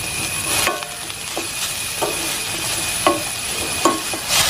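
Chopsuey being stirred in a pan after salt goes in, with a steady sizzling frying hiss and several soft scraping strokes at a regular pace, close by.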